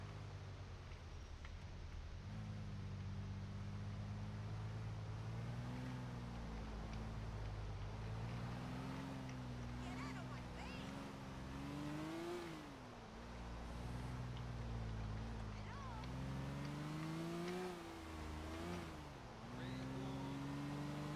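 A Moskvich 407 car drives in the video game GTA IV, its engine droning steadily with repeated rises and falls in pitch as it accelerates and shifts, loud and alone with no talk.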